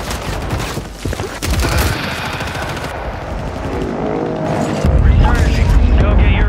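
Dense gunfire and a mortar strike in Warzone 3, rapid machine-gun bursts and booming impacts that run loud and close without pause, with game voice lines heard over the shooting.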